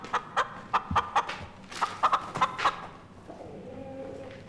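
Roosters at a cockfighting venue cluck and squawk in a quick run of sharp, close calls, then give way to a low background murmur.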